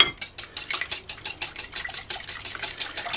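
Rapid rhythmic whisking of cream in a Pyrex dish, steady clinking strokes of a whisk against glass, close and repeated without pause.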